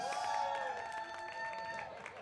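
Audience at a Jacksonville, Florida stand-up comedy club claps and cheers for about two seconds, a steady, moderately loud burst with scattered whoops and no talking over it.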